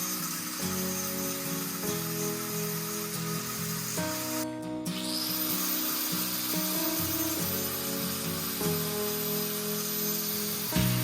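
A power tool grinds steadily to clean up welds on a 50-year-old MGB rear axle, a continuous loud whir with slight pitch shifts and a short break midway.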